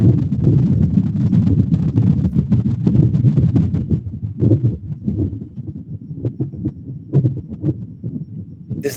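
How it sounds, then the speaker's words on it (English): Wind on Mars, captured by a seismometer and converted to sound, comes through as a steady low rumbling roar with gusty fluttering, continuous and fairly loud throughout. "This is the sound of the wind in Mars."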